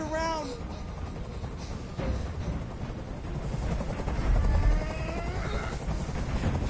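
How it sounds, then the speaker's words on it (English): Helicopter in the video game Detroit: Become Human, a continuous low rotor rumble and drone that swells slightly midway, heard alongside brief voiced, meow-like cries. "Tell that helicopter to get out of here."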